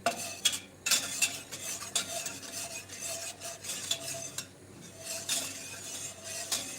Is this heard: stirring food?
yes